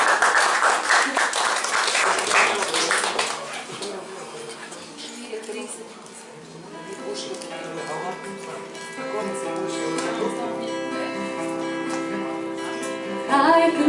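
An audience at a Slovenian evening talk show applauds loudly for a few seconds before the clapping fades into music with a singing voice.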